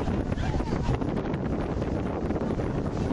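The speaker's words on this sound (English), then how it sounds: "The wind is pushing things around." Wind gusts steadily across the microphone outdoors during an ultimate frisbee final, a loud, dense roar that fills the whole clip with no distinct breaks.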